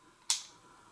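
The trigger of a Magnum Research Government 1911 pistol with a cast frame resets with one crisp, short click, close up against a quiet room.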